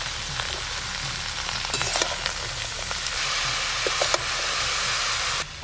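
Chopped snake gourd sizzles steadily in hot oil in a pan, with a continuous frying hiss broken by scraping stirs and clinks of the spatula, close and without talk.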